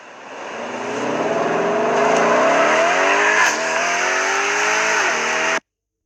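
A new car accelerates hard, its engine revving up through several rising sweeps with brief tire squeal, loud and close for about five seconds before cutting off abruptly.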